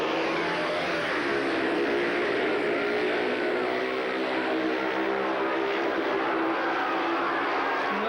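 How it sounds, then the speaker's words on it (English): Speedway motorcycles roar away from the start of a 1989 race meeting at Stoke, a loud continuous engine blare with rising pitch heard from trackside, crowd and commentary ambience blended beneath. "away they go, a very good start for rider in blue, Mick Poole"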